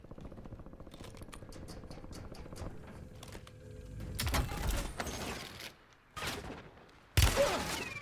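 Bursts of gunfire in a video game firefight, with scattered shots and mechanical clatter building to loud, dense volleys near the end.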